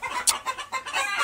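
Chickens and roosters cluck together on a house rooftop, a dense overlapping flock chatter with one sharper squawk near the start, close and steady throughout.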